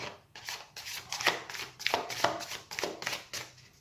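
Cards are shuffled and drawn for an astrology tarot reading, a close, quiet series of papery riffles and soft slaps with light hand handling throughout.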